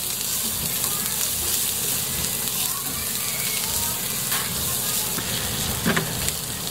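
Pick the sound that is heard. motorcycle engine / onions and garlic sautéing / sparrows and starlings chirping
onions and garlic sautéing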